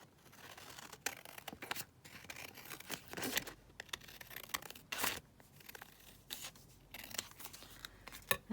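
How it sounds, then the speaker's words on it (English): Scissors snip through paper for a junk journal in a run of uneven cuts and rustles, close and quiet, with short pauses between bursts and no voices. "I'm making a horrible job of cutting this now"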